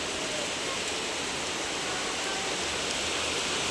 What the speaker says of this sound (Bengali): এত পরিমাণে আজকে বৃষ্টি হচ্ছে